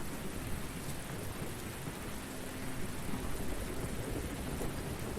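Steady rain ambience plays under a tabletop Dungeons & Dragons session, a dense, even hiss of falling rain at low level with a faint rumble beneath and no voices.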